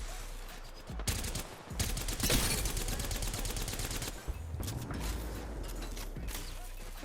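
Sustained bursts of automatic gunfire in a shooter video game, dense and rapid with brief pauses between volleys, loud and close with mechanical clatter.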